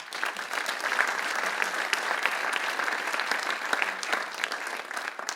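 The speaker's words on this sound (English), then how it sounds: "That's a big applause for Dalvan." Applause from a conference audience after a keynote at an AI event, loud, sustained clapping from many hands with a crisp, busy texture and no voices over it.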